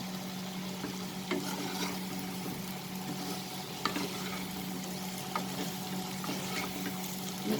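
Long beans and potato curry with garam masala is stirred in a pan, giving a steady soft sizzle with scattered scraping spoon strokes, close and fairly quiet with no talking.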